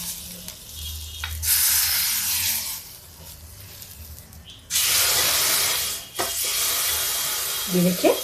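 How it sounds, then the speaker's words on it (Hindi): Hot ghee for tempering hisses and sizzles loudly in a pan over low gas in two long bursts, with brief quieter gaps and faint clinks between them. "देखिए ये तड़का जो है ये घी का लगाएंगे हम।"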